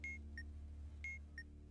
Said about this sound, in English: you heard the solve sound, which is different because I have a sound back on